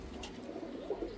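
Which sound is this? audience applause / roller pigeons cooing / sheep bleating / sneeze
roller pigeons cooing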